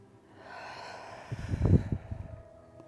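A single slow, deep inhale during a gentle yoga session, rising to an audible airy peak midway before easing off, close and fairly soft with no talking.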